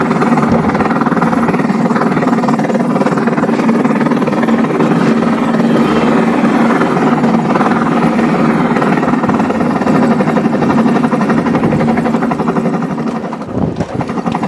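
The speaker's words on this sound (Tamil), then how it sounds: "நம்ம ஹெலிகாப்டர் ஒரு ரவுண்டு போயிட்டு வந்தாச்சு" Homemade helicopter running at full power, a loud, steady engine drone with rotor chop and rattling vibration that holds throughout, then dips slightly near the end.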